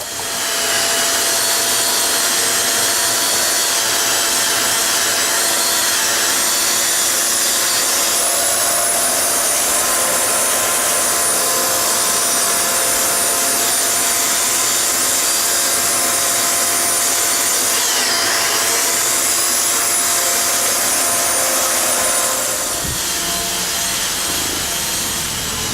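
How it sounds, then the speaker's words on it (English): A power grout-removal blade cuts out kitchen floor tile grout while a vacuum runs alongside, giving a steady, loud, continuous high-pitched whine and roar that holds for about 23 seconds before easing off. "turn the vacuum on, turn the blade on, and then we have a pointer right here. Keep the pointer in the center of the grout"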